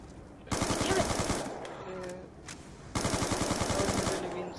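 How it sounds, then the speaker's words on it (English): Rapid-fire video game gun shooting in two loud, dense bursts of closely spaced shots, each lasting about a second and a half, separated by a short gap. "Look how fast this gun shoots."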